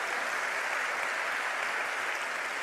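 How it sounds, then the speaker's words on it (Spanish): A church congregation applauds, with dense, steady clapping from a large crowd that holds at an even level throughout and no voices standing out. "Bien fuerte ese aplauso."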